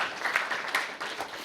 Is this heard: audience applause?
yes